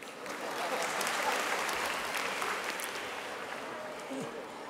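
An audience at a school annual day celebration claps steadily, a dense even patter filling the hall and easing slightly toward the end, with no voices over it.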